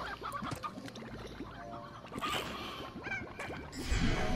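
Chickens cluck and chatter in a video game where slimes eat chickens, busy overlapping fowl calls amid game sound effects, no talk.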